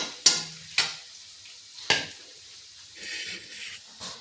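Onions frying in a pan for a cauliflower-stalk vegetable dish, with three sharp scraping stirs of a spoon against the metal over a low, steady sizzle that grows a little busier near the end.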